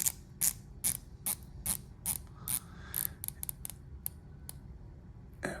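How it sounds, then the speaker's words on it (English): An Omega Seamaster Professional dive watch bezel turns in a quick series of crisp, close ratcheting clicks, evenly spaced at first and then coming faster, in a quiet room. "The bezel action is pretty good overall. Let you listen to it."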